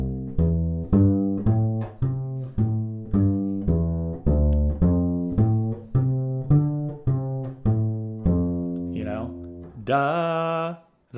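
An upright or double bass plays a bluegrass walking-arpeggio exercise in the low register, with steady plucked notes in an even rhythm, close and clear. A brief spoken word comes at the end.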